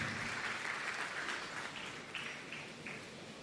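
A church congregation applauds after a reading, a dense wash of clapping that fades gradually over a few seconds with a few scattered late claps, no voices over it.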